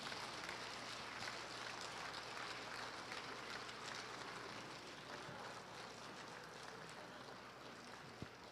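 A congregation at a Christian school dedication service in a church in Gwangju, South Korea, applauds warmly, a steady, fairly faint wash of clapping that continues without a break to the end.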